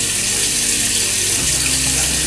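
Tap water runs steadily into a sink for lukewarm face washing, a continuous broadband splashing rush with a slight shift in flow partway through, close and loud with no voices.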